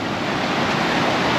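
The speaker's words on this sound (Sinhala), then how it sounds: "ඔයාලට මේ වතුර සද්දෙන් හිතා ගන්න පුළුවන් නෙමෙයි." Cyclone floodwater rushes through a small swollen canal beside a vegetable plot, a loud, dense, unbroken roar close to the microphone with no voices.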